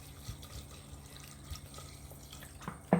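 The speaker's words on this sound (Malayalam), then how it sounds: "കഷ്ണങ്ങൾ വേവാൻ പരുവത്തിലുള്ള വെള്ളം നമുക്ക് ചേർത്ത് കൊടുക്കാം." Water is poured into a pressure cooker over chopped vegetables for an egg stew, a faint steady trickle with light dripping and a brief louder knock near the end, no voices.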